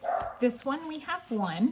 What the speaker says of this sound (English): If you can hear Kevin barking